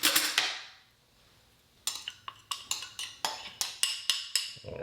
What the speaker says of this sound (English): I grab my spoon to make sure I get it all out.